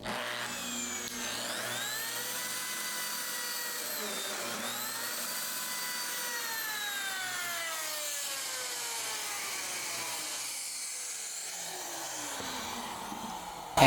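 A Lamello Zeta P2 joining machine spins up and runs steadily as a loud, close motor whine, its pitch sweeping down and settling before the tone changes near the end.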